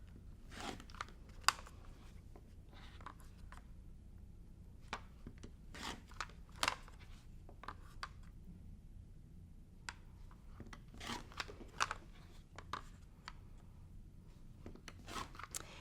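A rotary cutter slices quilting fabric strip sets along a ruler, heard as soft, faint crunching cuts and scrapes at irregular intervals in a quiet room, with no talking.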